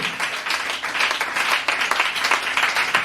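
Church congregation applauding during a sermon, a thick continuous roar of many hands clapping at full volume, with faint voices mixed in.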